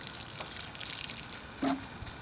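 A small amount of water is poured onto freshly planted sweet pea seedlings in a garden, a soft trickling splash that rises briefly and stands alone without talk.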